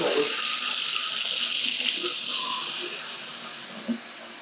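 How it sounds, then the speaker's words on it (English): Tap water pours steadily and loudly into a pan at a kitchen sink for a couple of seconds, then drops to a softer stream with a faint clink, close by. "So we're getting 2 cups of water and putting it into the pan over on the stove."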